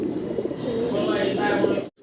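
A male Bantinet pigeon coos at a large pigeon farm in Bangladesh, a low throaty burbling call lasting nearly two seconds, close by, with voices in the background before an abrupt cutoff.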